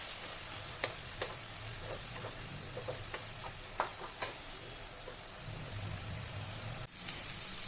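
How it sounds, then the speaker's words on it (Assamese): Masala and onions, salted, fry in a pan for a mutton curry with a steady, close sizzle, punctuated by scattered clicks and scrapes of stirring. "এই মছলাখিনি মই ভালকৈ ভাজি ল'ম।"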